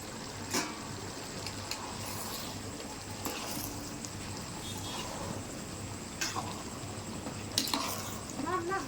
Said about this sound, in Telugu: ఈ టైంలో మూత తీసి ఒకసారి కలుపుకుంటామండి